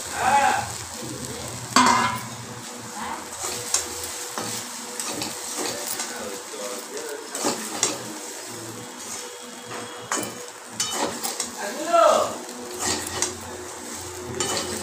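Potatoes and flattened rice (chuda) frying in a pan, a steady sizzle broken by repeated scrapes and clinks of a spoon stirring against the metal, close and fairly loud.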